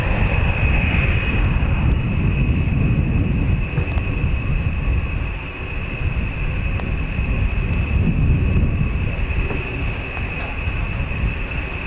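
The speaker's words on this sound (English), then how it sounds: "Oh, it's a B-52, is it?" A B-52 Stratofortress bomber taxiing at RAF Fairford, its engines a loud, constant roar with a steady whine above it, heard from outside at some distance for the whole stretch.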